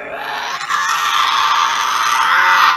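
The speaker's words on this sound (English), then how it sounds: "a Tasmanian devil to be specific." A Tasmanian devil gives a harsh, sustained screeching growl, loud and close, rising slightly in intensity over a few seconds without pause, with no talking.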